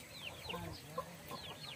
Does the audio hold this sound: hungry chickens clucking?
yes